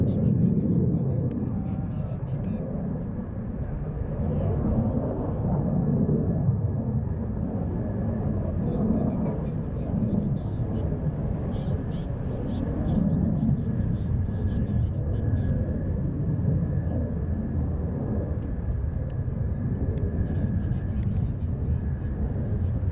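A New Jersey Air National Guard F-16C Fighting Falcon approaches to land at Joint Base McGuire-Dix-Lakehurst during an air show, a steady distant jet rumble lasting throughout beneath radio voices giving landing clearances.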